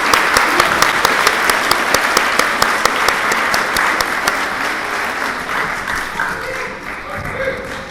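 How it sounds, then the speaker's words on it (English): A school audience at a 7th grade award ceremony applauds students of the month, loud dense clapping close by that fades gradually toward the end. "So we'll give them a round of applause."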